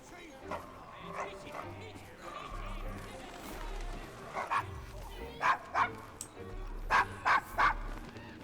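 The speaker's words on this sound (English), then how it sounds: "Is your dog quite all right?" A dog named Desmond in a Victorian London street scene from Assassin's Creed Syndicate gives a run of short yips and barks mixed with whimpers, under and between game dialogue and ambient street noise.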